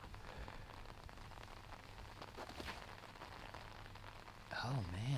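Steady rain patters across an outdoor disc golf course during a tournament round, a dense continuous hiss throughout, with a brief louder mechanical warble near the end.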